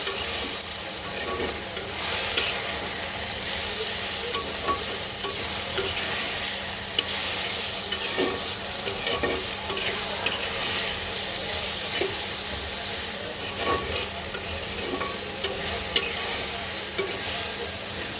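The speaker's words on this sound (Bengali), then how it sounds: "এবার আলু আর সব কিছু একসাথে কয়েক মিনিট সুন্দর করে ভাজা ভাজা করে নেব" Potatoes fried together with turmeric, coriander powder and other spices for a kajki fish and tomato curry sizzle loudly and continuously, with steady stirring scrapes and clinks throughout.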